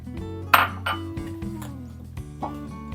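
Sunflower seeds are poured into a bowl for a seed snack dough, with a sharp clinking rattle against the bowl followed by several lighter scattered clicks and taps, close by and with no talking.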